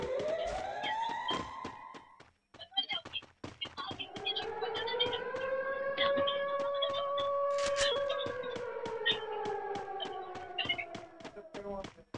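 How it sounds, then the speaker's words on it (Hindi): A rising and falling electronic siren in the video game Free Fire wails steadily throughout, with rapid sharp clicks and gunfire-like pops layered over it. "देखो अभी सायरन बज गया"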